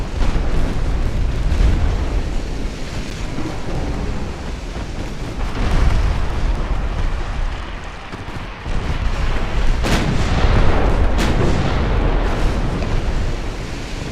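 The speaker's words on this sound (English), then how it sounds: "Matsu fires again. Another torpedo hit." Naval guns firing and torpedoes striking ships in an early-1900s Russo-Japanese naval battle video game, a dense, continuous rumble of booms and blasts with several sharp louder cracks, no voices.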